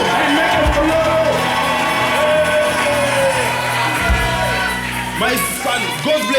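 A church congregation at a revival service shouts, whoops and cheers in a loud, sustained roar, with individual yells rising out of the crowd and a preacher's amplified voice mixed in.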